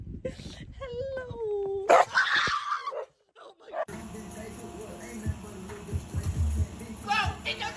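A Shiba Inu whimpers with rising whines, then gives sharp yips and barks close by, followed by noisy scuffling as people talk over the commotion.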